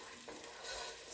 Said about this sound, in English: So I'm going to start off by just partially frying my onions,